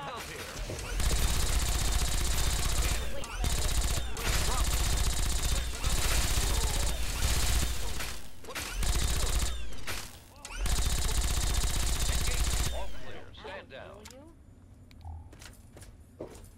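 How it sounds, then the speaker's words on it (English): Rapid, sustained gunfire in the Fallout 3 video game comes in long loud bursts broken by short gaps, fading to quieter game sounds at the end. "I stopped shooting when I realized that you ran in front of my goddamn bullets"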